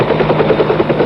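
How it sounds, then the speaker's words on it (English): A helicopter flies near, its rotor chopping in a steady rapid beat, loud and continuous over a low engine drone. "Then the helicopter comes to fly the chosen ones to Saigon"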